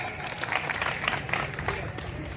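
Audience applause at a political rally in Moladband, a steady wash of clapping from a crowd, moderately loud and continuous with some crowd noise mixed in.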